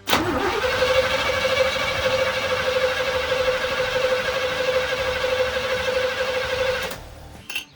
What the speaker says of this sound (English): I'm just gonna try to crank her over and we'll see what she does.